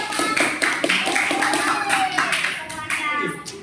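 In a classroom, children clap for the presenters with quick, uneven claps close by, mixed with children's voices.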